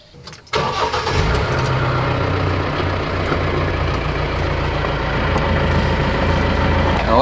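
Mahindra Roxor side-by-side engine cranks and fires within the first second, then settles into a steady, rumbling idle heard close up for the rest of the clip.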